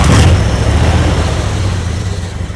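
A Mopar 318 V8 in a Dodge Coronet runs loud and close, a dense low rumble that opens with a brief burst and then settles to a steady idle.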